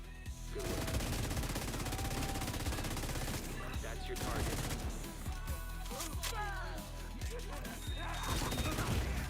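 LMG machine gun fire rattles in The Division 2, steady rapid bursts running throughout amid crashes and other gunfire in a chaotic firefight, with a voice talking over parts of it.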